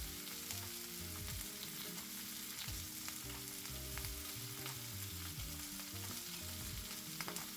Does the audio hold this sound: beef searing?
yes